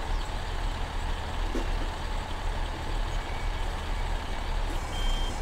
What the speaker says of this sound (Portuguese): Ó o barulhinho de ré, que da hora também, galera